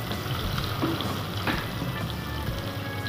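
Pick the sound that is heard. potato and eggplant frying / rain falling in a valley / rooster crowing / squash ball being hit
potato and eggplant frying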